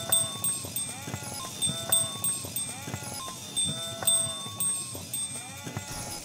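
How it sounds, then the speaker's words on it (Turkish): A flock of sheep being milked by Yörük women in an outdoor herding camp, with repeated bleats near and far over rustling and faint clinks, moderately quiet. "Yörük kadınlarından bir tanesi koyunu yakalamış,"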